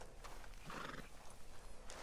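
A horse in Red Dead Redemption 2 whinnies close up, with hoof clip-clops in the game mix and no talk over it.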